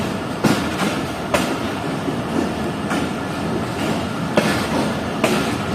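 Pak Business Express passenger train rolling at restricted speed through Samma Satta Junction at night, a loud steady rumble punctuated by sharp regular clickety-clack wheel beats over rail joints.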